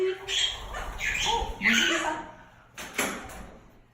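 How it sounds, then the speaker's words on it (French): Parrots squawking inside a home aviary, with harsh, chirpy calls in several short bursts that overlap and rise and fall, fairly close and loud. "vous voyez la volière où les oiseaux sont installés"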